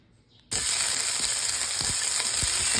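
Onion and garlic hit hot oil for kare-kare, starting a loud, dense sizzle that jumps in from near-silence and holds steady, with faint stirring taps below it.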